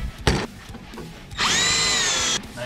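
A power drill boring a hole through a Harley-Davidson handlebar, a short bite of the bit followed by a steady high whine lasting about a second, close and loud.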